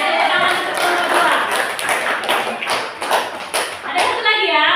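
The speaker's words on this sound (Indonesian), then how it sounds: "tepuk tangan untuk kelompok" Classroom of high school students clapping for a discussion group, a dense, continuous patter of hands with some thumps, lasting several seconds at close range.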